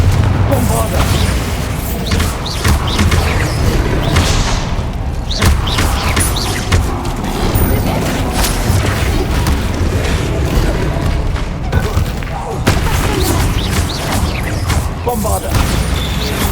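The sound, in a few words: Bombarda spell explosions, Hogwarts Legacy video game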